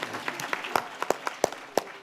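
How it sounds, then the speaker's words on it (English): Scattered claps from a small crowd at a community conversation event, a few sharp hand claps standing out over a soft patter, fairly quiet and brief. "We can applaud him."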